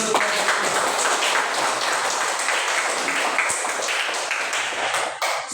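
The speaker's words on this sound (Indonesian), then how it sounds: "mari kita beri tepuk tangan dulu" An audience claps in a classroom to thank a group after its presentation: a steady, dense wash of many hands that runs the whole time and thins slightly at the very end.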